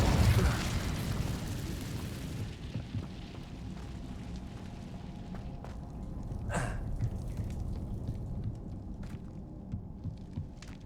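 Incendio fire spell cast in Hogwarts Legacy: a loud whooshing burst at the start that settles into a low rumbling, crackling fire, with a sharp flare-up near the middle before fading back.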